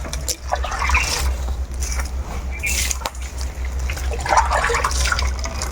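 Water splashes and trickles during washing chores at home in a Bengali household, a steady wet wash with brief louder spurts, heard alone under a low constant hum.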